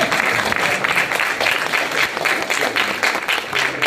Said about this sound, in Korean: 박수가 후한 것 같습니다